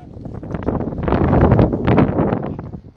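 Strong gusts buffeting a microphone outdoors, a loud rumbling roar that swells and fades over a few seconds and drowns out other detail, with no clear talking.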